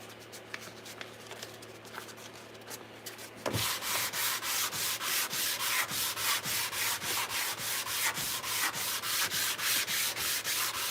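Wood being hand-sanded along the grain in a woodshop, a steady run of rhythmic rasping strokes, loud and close, that begins abruptly a few seconds in after a quieter stretch of faint background noise.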